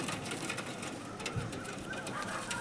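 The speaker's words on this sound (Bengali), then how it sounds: "খুব সুন্দর পায়রা, হেভি কোয়ালিটির পায়রা আপনারা দেখতে পাচ্ছেন।" Pigeons of a breed kept for sale give a single soft coo, faint within steady background hiss and noise.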